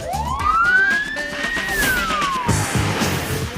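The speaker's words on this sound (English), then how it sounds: "Police put on the sirens to pull over a driver" A police siren wails loudly, its pitch climbing and then sliding back down in one long sweep over steady traffic rumble.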